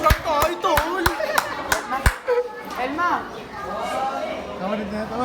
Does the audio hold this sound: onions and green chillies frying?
no